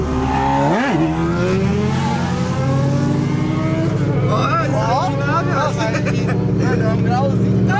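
Loud Chevrolet Camaro engine rumbling steadily while driving, with a revving swell early on and changing engine tones, close and constant, with voices talking over it.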